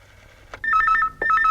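A telephone rings with a loud electronic warbling tone, two bursts of rapid alternating beeps separated by a brief gap, close and clear.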